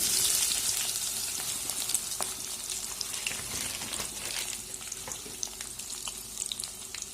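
Chilli peppers hit hot oil with bay leaf and five-spice seeds while making chilli pickle, giving a steady loud sizzle with crackling pops that slowly eases off, with no talking.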